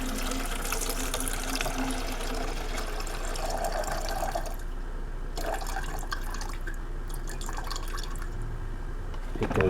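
Water trickles and splashes steadily into a container as it is measured out for mixing Mapei Self Leveler Plus compound, faint and close, with the pour thinning and stopping partway through.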